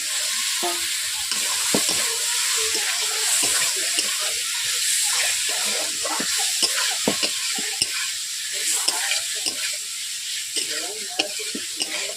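Boiled potato pieces hit a hot frying pan for a Bengali rui fish curry, giving a loud, continuous oily sizzle with intermittent scraping stirs close by.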